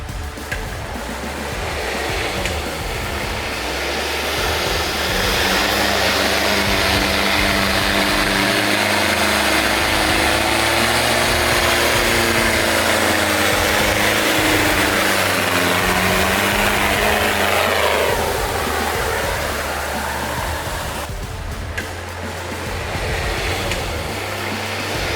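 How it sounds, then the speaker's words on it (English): Heavy off-road vehicles, including diesel machines, grind uphill with a loud, sustained engine drone whose pitch slowly climbs and falls as they labour, then the roar eases near the end. "Look at those diesel tractors go."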